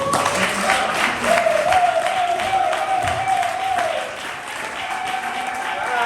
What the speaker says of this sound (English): Applaud the poet.